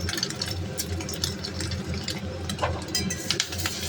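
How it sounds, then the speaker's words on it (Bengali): An egg fries in a pan in a home kitchen with a steady, fairly close sizzle and crackle, faint and unbroken for a few seconds with no talking over it. "ডিমটা ভেজে নিই আমি"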